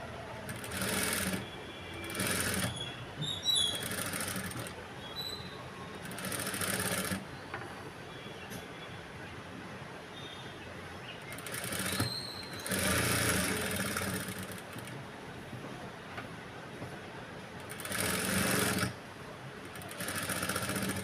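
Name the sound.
sewing machine stitching boat neck blouse cloth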